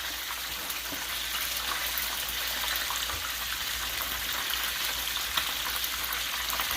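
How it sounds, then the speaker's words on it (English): Steady crackling sizzle of chicken legs frying, a dense hiss of spattering oil that holds evenly throughout with no voices. "I've shown you how beautifully these chicken legs are frying up."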